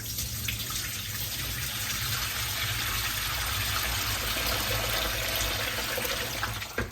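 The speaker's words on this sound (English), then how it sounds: "I'm actually washing this in lukewarm water. I'm gonna give it a whisk." Spinach is whisked through lukewarm water in a basin, the water swirling and sloshing steadily in a dense continuous wash of splashing with no talking.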